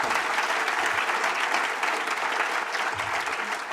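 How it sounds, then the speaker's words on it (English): Steady, full applause rises from a conference audience honouring Senator Debbie Stabenow of Michigan with a public servant award at an organic trade policy conference. Dense clapping continues evenly throughout, with a few faint voices beneath. "Let's give her a round of applause"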